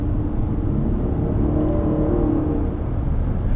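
The V6 of a 2024 Lexus TX 550h+ plug-in hybrid hums and rises slightly under throttle while driving, a steady low cabin drone with faint road rumble and no talking.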